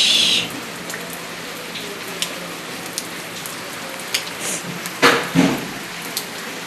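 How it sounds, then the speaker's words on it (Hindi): Heavy rain falls steadily in a close, even hiss, with scattered louder drips and a couple of brief knocks partway through. "ये देखो कितनी ज़्यादा बारिश हो रही है"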